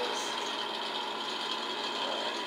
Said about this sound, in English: This exhaust fan does not like the cold weather for sure.